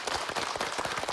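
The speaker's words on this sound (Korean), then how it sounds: "오늘 함께해 주신 세 분 환자분과 또 이 가족 여러분께 우선 여러분 따뜻한 박수 보내주세요." Korean television studio audience applauding patients and their families: a brief, steady wash of clapping from many hands, fairly soft and uninterrupted.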